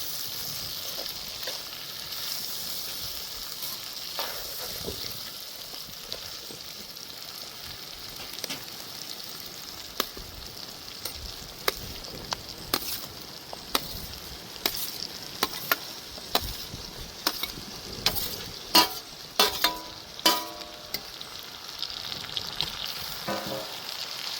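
Chopped tomatoes sizzle in a pan with turmeric powder and chicken masala for shahi paneer, giving a steady hiss of frying, with spoon stirs and scrapes growing more frequent and louder toward the end.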